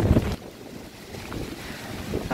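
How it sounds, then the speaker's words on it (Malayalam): Strong wind buffets the microphone in gusty rumbling bursts with a loud blast at the start, then a steady rushing roar outdoors with no talk. "ഭയങ്കര കാറ്റാണ് കണ്ടോ, ഒരു രക്ഷയില്ലാത്ത കാറ്റാണ്."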